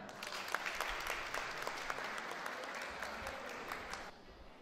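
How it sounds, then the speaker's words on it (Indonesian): Applause from an audience at a job fair in a youth center, a dense, even wash of many hands clapping that holds steady for about four seconds before fading quickly, fairly distant and soft. "Tepuk tangan."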